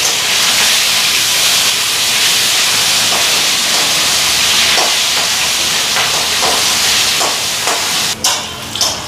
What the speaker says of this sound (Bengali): এদিকে এক পিস ভাজা হয়ে গেছে মাছ, আর এক পিস ভাজা হইব।